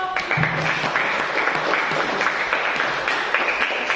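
Classroom audience clapping for a student group after their physics presentation, a steady, moderately loud patter of many hands with a faint voice showing through the start.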